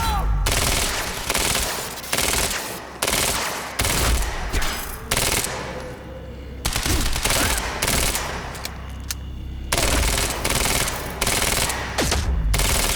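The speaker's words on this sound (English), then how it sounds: "See how much different this is from that advanced SMG that we had previously?" Advanced SMG gunfire in Quantum Break, loud rapid automatic bursts repeating in close succession with brief pauses between volleys, near and dominant.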